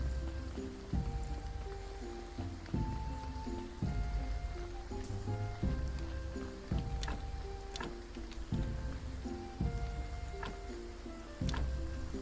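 Rain patters steadily in the video game Graveyard Keeper, a soft constant hiss mixed with light ticking drops, heard under a repeating game music loop.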